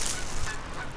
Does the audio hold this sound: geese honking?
yes